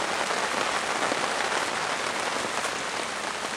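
Rain falls steadily in the woods, a dense, even patter of drops on leaves and surfaces that stays constant, close and moderately loud with no voices.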